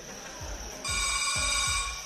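A telephone rings in a home, with a steady electronic tone building into repeated bright rings, loud and close, over low background thumps.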